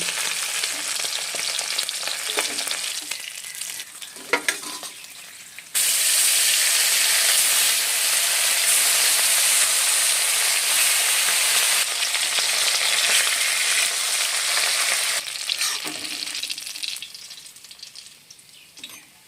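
Fish frying in hot oil, a loud, steady, close sizzle that surges abruptly, holds for several seconds, then eases back and slowly fades, with no talking.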